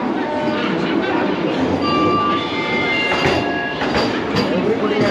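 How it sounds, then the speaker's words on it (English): A new Vande Bharat Express train arriving at a station platform, its steady rolling rumble and rail noise continuous and fairly close, with faint squealing tones above and people talking in the background. "It's a beautiful new train."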